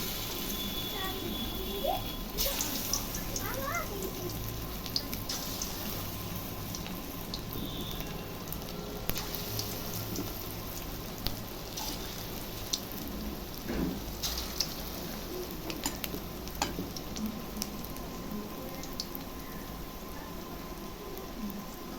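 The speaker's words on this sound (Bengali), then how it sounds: "তেলটা গরম হয়ে গেছে, এখন পকোড়াগুলো ছেড়ে দিচ্ছি" Chicken pakoras coated in besan batter sizzle steadily in hot oil, a continuous crackling hiss with scattered pops running throughout, fairly close and moderate in level.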